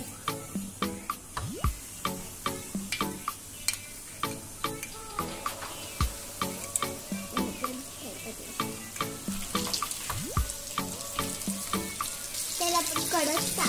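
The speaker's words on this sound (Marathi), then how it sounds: "आता आपण ह्याच्यात एक एक करून पीस फ्राय करून घेणार आहोत" Bombay duck (bombil) pieces fry in hot oil over a high flame, giving a steady sizzle broken by repeated clattering knocks and scrapes in an uneven rhythm, close and moderately loud, with no talking.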